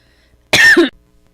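One short, harsh cough bursts out of near silence, a single loud, close hack lasting under half a second before quiet returns.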